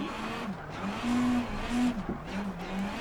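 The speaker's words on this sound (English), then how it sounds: "Just look how easily I can lose the back end of the car with a bit of throttle." Rally car sliding on a slippery stage in stormy weather in the WRC Generations racing game, its engine droning steadily with tires squealing in repeated drawn-out bursts as the back end steps out under throttle, close and loud with no talk.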